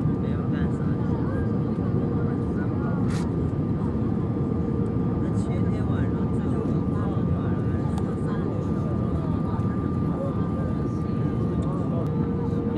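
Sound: airplane cabin during descent before landing

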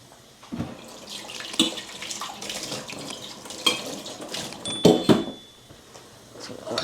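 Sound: hot water poured into khichdi pot

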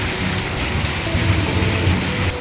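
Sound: heavy rain

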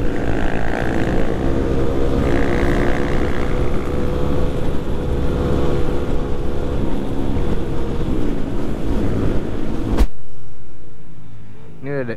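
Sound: motorcycles with racing exhausts

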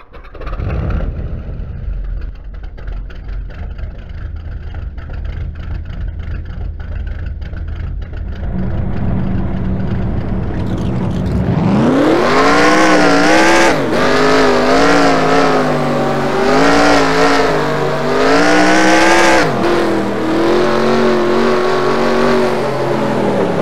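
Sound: race car engines starting and revving in NASCAR Racing 2003 video game

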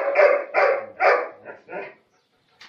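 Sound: dog barking

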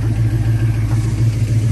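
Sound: 1963 Ford Fairlane restomod engine idling

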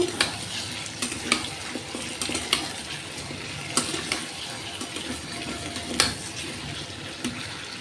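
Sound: water added to vegetable curry cooking in wok

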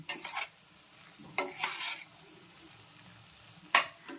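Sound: stirring a sizzling tempering of garlic and chilli

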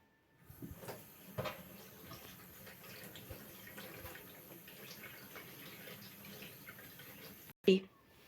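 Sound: rinsing leaves under running tap water

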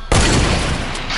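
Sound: sniper rifle shot in a video game

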